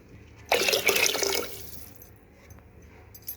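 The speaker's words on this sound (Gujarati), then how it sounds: "તેના માપનું આપણે પાણી એડ કરી દઈશું" Water poured into soaked rice and lentils for a pressure-cooker khichdi: a loud, close gush lasting about a second, then a quieter trickle and faint drips that fade out.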